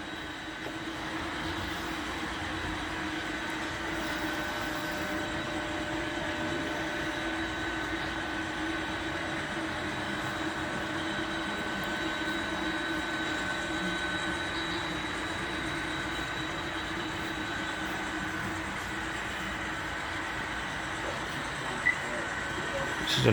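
Model trains run on a club layout at a model railroad open house, a steady low rumble with faint squeals and a constant whine, lasting throughout and ending in a brief clunk, while someone talks quietly over it.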